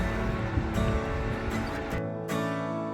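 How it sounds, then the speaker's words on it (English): Steady, dense rush of falling water fills the scene, a broad continuous roar that drops slightly in low rumble near the end. "As you approach, you hear the crashing water"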